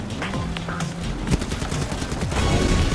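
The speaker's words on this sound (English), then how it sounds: "We're shooting him up real good." Rapid gunfire rattles continuously while an enemy is shot in the Lost Temple map of the video game Hard Ware Rivals, dense bursts of shots that grow louder toward the end, with no talking.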